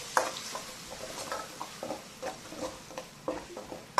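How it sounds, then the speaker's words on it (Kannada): Chicken fry masala sizzling in a pan while being stirred, with soft scraping strokes and light spatter repeating at an uneven rhythm, close and fairly quiet. "ಈ ಮಸಾಲೆ ಇದರಲ್ಲೇ ಸ್ವಲ್ಪ ಫ್ರೈ ಆಗಬೇಕು."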